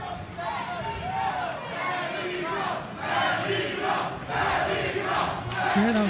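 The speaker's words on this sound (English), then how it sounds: "You hear the crowd with the Mexico chants" A boxing crowd chants "Mexico" in rhythmic swells, many voices rising and falling together at a distance beneath a commentator's talk.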